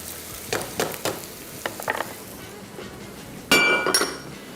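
Onions frying alongside chicken in a pan make a soft sizzle, with several light clinks and scrapes of a spoon against the metal. Louder stirring clatters come near the end. No one speaks.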